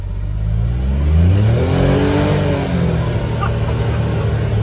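A CFMOTO U10 Pro UTV with a clutch kit for big tires revs hard in low gear, its engine rising in pitch and then holding a loud, steady, close whine as it pulls.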